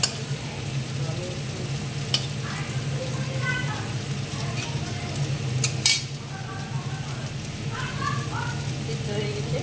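Sliced figs fry in a pan of oil, giving a steady soft sizzle with occasional sharper crackles and spatters, heard close up throughout.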